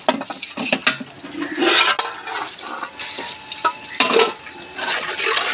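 Soot-blackened cooking pots rinsed with water after scrubbing, splashing and pouring water with clanks and scrapes of metal, irregular bursts heard up close with no talking.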